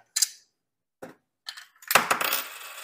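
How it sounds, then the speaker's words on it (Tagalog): Coins dropping into the slot of a coin-operated lighter-refill machine, several short metallic clinks spaced apart and then a louder rattling clatter, close and alone. "Pero try natin maghulog ng barya."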